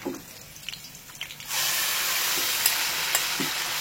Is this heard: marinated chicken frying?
yes